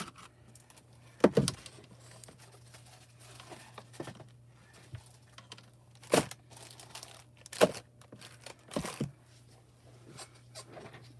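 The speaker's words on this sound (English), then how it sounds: "Just dropped foil all over the floor." Dropped craft foil crinkles in scattered bursts as it is gathered up from the floor, with a few sharp crackles separated by quiet pauses over a faint steady hum.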